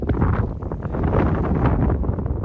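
Steady, rough wind buffets the microphone in continuous gusts on a foggy, cold mountain, a broad roaring rush with no voices.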